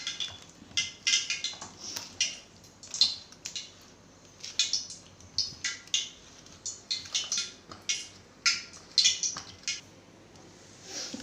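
Plantain slices being tossed and mixed with masala in a bowl for a Chettinad-style fry, giving repeated soft squishy scrapes and light clinks in an irregular rhythm, close and moderately loud, with no talking.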